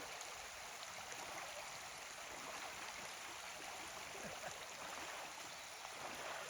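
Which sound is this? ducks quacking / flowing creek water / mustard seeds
flowing creek water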